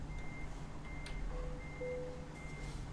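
A truck reverses in American Truck Simulator, its backup alarm sounding a steady string of evenly spaced beeps over a low idling engine.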